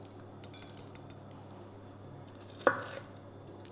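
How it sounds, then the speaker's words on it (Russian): A knife cutting bell peppers on a cutting board in a quiet kitchen: faint handling noises, one sharp, distinct knock of the blade striking the board, then a small tap at the end. "я покажу, как мы нарезаем наши болгарские перцы"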